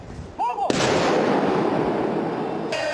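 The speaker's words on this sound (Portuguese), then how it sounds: "A cerimônia terminou depois de uma salva de tiros da Polícia Militar Catarinense" A single loud volley of rifle fire from a military police gun salute at a ceremony cracks out at once, followed by a long echoing rumble that fades slowly into the distance.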